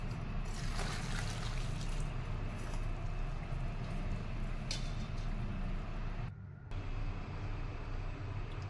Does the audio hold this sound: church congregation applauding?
no